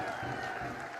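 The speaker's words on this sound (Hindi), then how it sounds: "एक बार जोरदार तालियों से आप भी उनका" Crowd applause at an outdoor public rally in a Rajasthan village, greeting a cabinet minister's birthday: a dense, steady wash of many hands clapping throughout, with voices mixed in.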